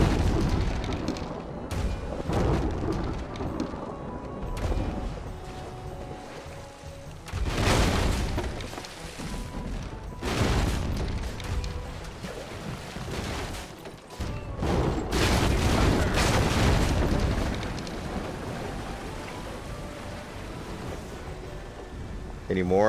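Pirate ship cannons booming in Pirates Online, several loud deep blasts spaced a few seconds apart over steady ocean wash and creaking, with a voice talking throughout.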